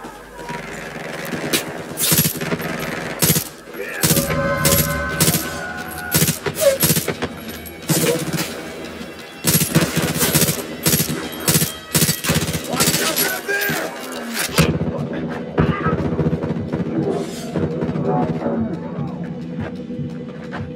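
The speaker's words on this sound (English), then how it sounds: "Somebody is still firing." Rapid gunfire from the video game Far Cry 5, dense automatic bursts and single shots clustered loud and close for most of the stretch, then thinning to sparse distant pops, with game sounds and a voice underneath.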